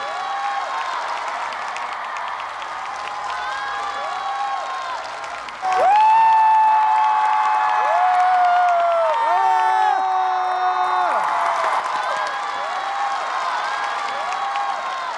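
Applause and cheering from a studio audience after a song performance on a music competition show, sustained under sung, held notes and music, with louder whoops and shouts partway through.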